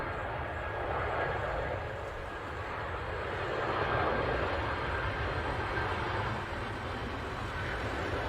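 An Air Canada Rouge airliner arrives at Manchester Airport as a continuous broad roar from a distance, swelling slightly midway and holding steady throughout.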